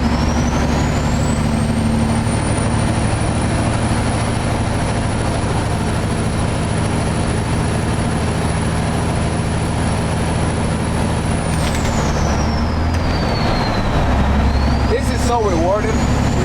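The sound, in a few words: truck turbo and Jake brakes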